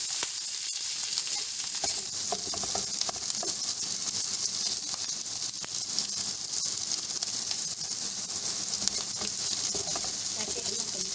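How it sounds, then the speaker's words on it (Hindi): Onion, cabbage and spring onions fry in a pan for restaurant-style dry chicken manchurian, giving a steady, dense sizzle with faint stirring scrapes throughout. "इसको भी हम हल्का सा फ्राई कर लेंगे"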